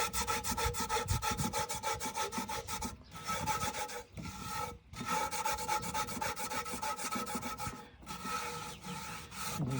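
Salt scrubbed over rust inside a cast iron Dutch oven, a close, steady gritty rubbing in rapid back-and-forth strokes with a few brief pauses.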